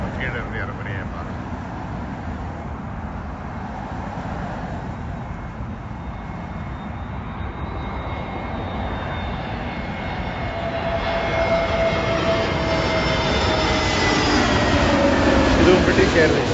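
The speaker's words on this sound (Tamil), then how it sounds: "ஃப்ளைட்டு நம்ம கீழே இருந்து இறங்குறையே பாருங்க" A British Airways jet lands at London Heathrow, its engine roar building steadily from a distant drone into a louder, whining rush while someone talks over it.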